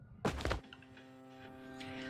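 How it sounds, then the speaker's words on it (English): A heavy thunk as a fighter hits the ground in the anime fighting game Persona 4 Arena Ultimax, one loud short impact followed by a lingering musical game soundtrack. "Labrys falls to the ground with a thud."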